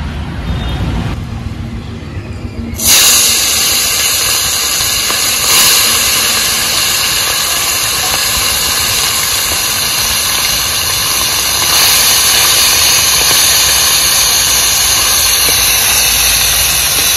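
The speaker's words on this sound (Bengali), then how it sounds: "এই চুনো মাছ ভাজতে অনেক তেল লাগে, জানিস? অল্প একটু তেলে হয় না ভাজা।" Small chuno fish frying in plenty of oil in a karai, a loud, steady broadband sizzle that jumps up sharply after a quieter opening and continues hissing without letup.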